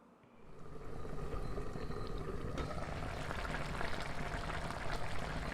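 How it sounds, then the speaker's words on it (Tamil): Oil bubbles and sizzles steadily in a pot while frying chicken, a dense crackling hiss that swells in the first second and then holds at an even level. "எண்ணெய் கக்கிட்டு கொதிக்குது பாருங்கள்."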